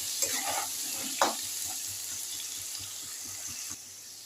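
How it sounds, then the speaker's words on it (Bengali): Potato pieces with turmeric and salt fry gently in oil, giving a soft, steady sizzle with a few faint spoon clicks and stirring sounds scattered through it. "আলুগুলো আমি হলুদ নুন দিয়ে হালকা করে ভেজে নেব"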